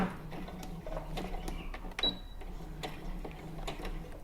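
Sewing machine stitching a neckline seam, a quiet, rapid mechanical stitching rhythm that runs steadily for a few seconds, alone.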